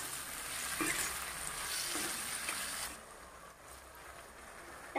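Chopped tomatoes with salt sizzle and fry steadily in a hot pan while cooking turai (ridge gourd) sabzi, a continuous soft hiss that eases slightly toward the end, with no talking.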